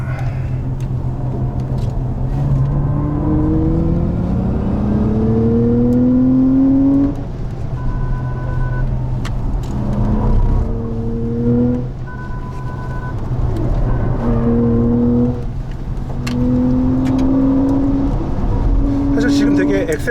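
Hyundai Ioniq 6 N electric car driving hard on a track, its rising and falling electric drive whine sweeping up and down in repeated accelerating runs, steady and fairly loud throughout, with someone talking over it.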